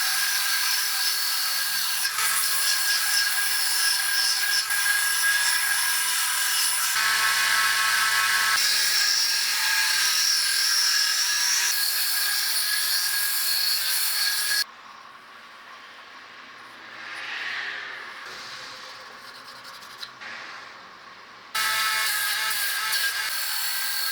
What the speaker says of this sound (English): now we're gonna go to the belt sander and start sanding this off.